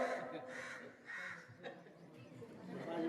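A crow caws nearby outdoors during a school farewell gathering, giving a few harsh, rasping calls spaced about a second apart over a low murmur of voices.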